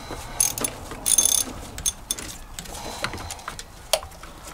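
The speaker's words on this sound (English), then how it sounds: "we should be able to unbolt each individual bolts" Hand ratchet loosening valve cover bolts on a 100 Series Toyota Land Cruiser, with close clicking bursts of the pawl, metallic ticks and a few clinks of tools and bolts, and no talking.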